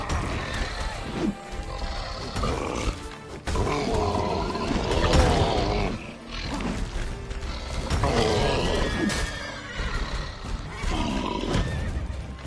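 Roach, Geralt's horse in The Witcher 3: Blood and Wine, neighs and snorts close by amid rough grunting and roaring from rock trolls, with several loud whinnying bursts spread across the stretch.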